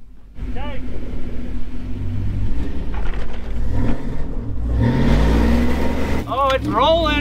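A totaled Lincoln Navigator SUV rolls off a rock, with a low engine or rolling rumble and scraping thuds while people talk nearby.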